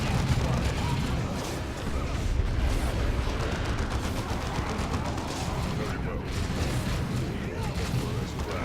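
Grenade blasts and gunfire from the Dawn of War 2 co-op campaign: a continuous roar of artillery-like booms and rattling shots fills the scene, with players talking over the battle.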